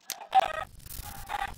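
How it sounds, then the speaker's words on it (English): Minecraft chicken clucking in two short, close bursts with a brief gap between them, clear and fairly quiet against a low background. "I'm gonna burn this chicken."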